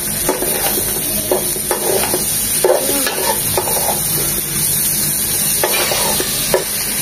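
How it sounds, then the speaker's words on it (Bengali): Fresh green bitter gourd (ucche) bhaji with thinly sliced potato fries in a pan, a continuous close sizzle broken by repeated scraping stirs of a spatula against the pan. "দেখুন, এরকম ভাজা ভাজাই করব, একদম ওভার কুক করব না।"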